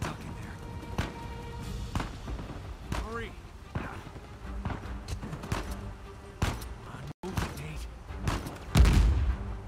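Shotgun fire in the video game Uncharted 4 rings out as a scattered series of sharp, loud blasts and thuds among other combat noise, with a voice talking briefly between shots.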